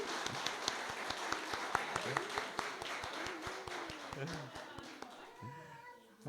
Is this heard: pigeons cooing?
no